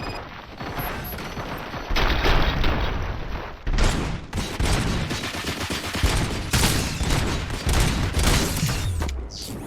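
Dense, loud gunfire from a battle in RoboCop: Rogue City, with rapid bursts and overlapping shots continuing almost without pause and a brief drop near the middle, then a low rumble at the end.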